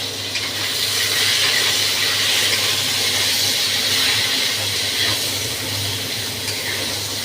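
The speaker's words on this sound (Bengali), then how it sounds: "ঢ্যাঁড়সটা একটু সাতলানো ভাজা হবে" Okra is lightly frying in oil in a pan on a home stove, with a steady, loud sizzling hiss that continues without a break.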